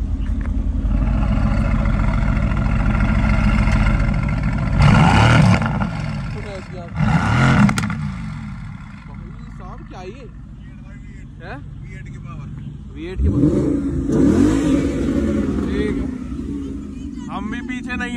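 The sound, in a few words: Ford Mustang GT engine revving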